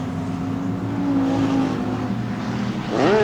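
Race cars at Texana Raceway Park run past the start-finish line during a summer showdown night. A steady engine roar and drone is heard at some distance, then a rising engine whine swells louder near the end.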